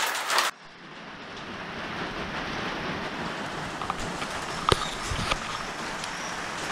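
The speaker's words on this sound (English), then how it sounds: "Rain day, no work today." Steady rain falls outdoors on a wet day, a dense continuous hiss with occasional sharper drips and patters standing out, moderately loud and with no talking.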